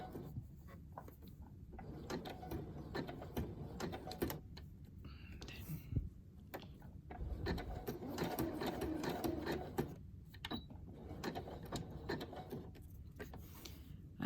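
A sewing machine runs in bursts while stitching a small diagonal seam on patchwork fabric, with mechanical whirring and clicking close by, stopping and restarting, with soft talk and handling noise in between.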